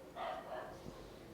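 A dog outside gives one or two short muffled barks at a distance, faint against a quiet room.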